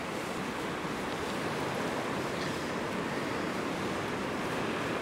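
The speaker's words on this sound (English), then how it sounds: "Some of those waves are hitting pretty hard over that way." Ocean waves hit the rocky coast at Tors Cove and Bauline East, a steady, dense roar of surf with wind buffeting the microphone throughout and no talk.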